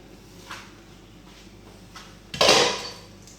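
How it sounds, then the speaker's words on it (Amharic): A cast iron pot is set down on a kitchen stove, giving one loud clanking thud that rings briefly and fades, preceded by a couple of faint knocks. "እዚህ ጋር ብረት ድስት አለኝ። ብረት ድስቱን እጥለዋለሁ።"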